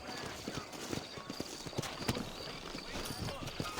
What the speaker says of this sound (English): Vou andar de cavalo pela primeira vez